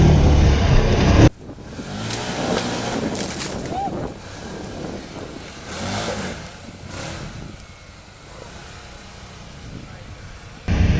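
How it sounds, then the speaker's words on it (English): Engine of a vehicle on a ride being revved hard, a loud roar with wind buffeting that cuts off abruptly, then quieter surging engine noise before it swells again near the end. "That motor sounds good too, and he's ripping on it like that."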